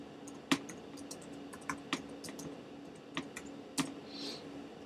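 Sparse keystrokes on a computer keyboard as a command is entered, a handful of separate clicks spread irregularly over a few seconds, close but quiet against a steady low hum.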